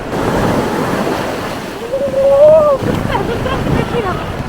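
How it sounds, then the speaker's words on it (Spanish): Strong sea waves surging and washing at Acapulco beach, a loud close rush of surf with wind buffeting, while a voice talks and exclaims over it. "Es que tiene mucha fuerza el agua del mar."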